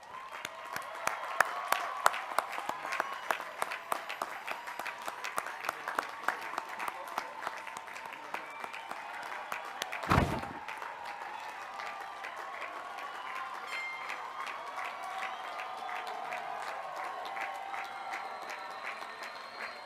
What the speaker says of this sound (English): ask them to stand for a well-deserved round of applause